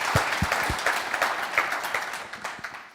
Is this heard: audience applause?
yes